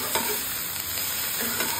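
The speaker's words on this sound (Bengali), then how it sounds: "এর মধ্যে আমি দিয়ে দেবো ডিমের সঙ্গে যে আলুটা সেদ্ধ করে রেখেছিলাম, এটাও একসঙ্গে ভেজে নেব" Boiled potato and egg fry together in a pan, a loud continuous sizzle and crackle with faint scraping of a spatula, no voices over it.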